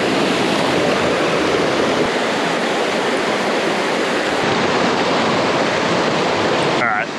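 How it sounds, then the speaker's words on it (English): River water flowing over rocks in a shallow jungle stream, a steady, close, full rushing wash that carries on unbroken throughout. "You can probably hear the water."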